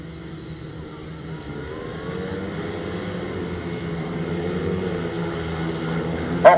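500cc sidecar outfits revving at the start of a grasstrack race, engines droning and building steadily from moderate distance, with a brief louder burst at the end.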